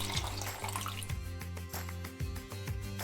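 Water poured into a pot while making sugar syrup, a steady close splashing stream with several distinct drips and spatters breaking through.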